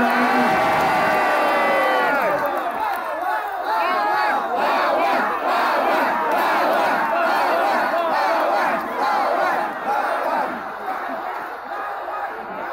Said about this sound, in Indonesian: Jawabnya seperti yang Bapak Ibu dan Saudara-saudara teriakkan ini tadi, lawan!